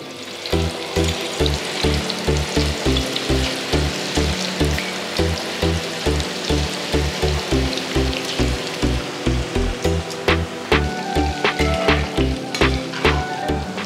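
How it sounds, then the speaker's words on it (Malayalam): Chicken deep-frying in hot vegetable oil, a loud, dense crackling sizzle with a steady rhythmic thumping underneath, close and continuous throughout. "വെജ് ഓയിലോട്ട് ഇട്ട് കൊടുക്കാം ചിക്കൻ."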